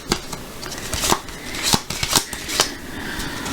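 Tarot cards being shuffled and handled during a search for one card, with a series of sharp, close slapping and flicking sounds in an uneven rhythm and no voices.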